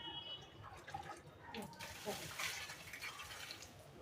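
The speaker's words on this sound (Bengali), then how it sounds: "গাছগুলো সব শুকিয়ে গেছে জানো এখন গাছে সব জল দিতে হবে" Garden plants being watered, faint continuous splashing and trickling of water, close by, with a voice talking quietly in the background.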